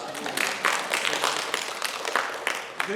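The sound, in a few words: audience applause welcoming a missionary in church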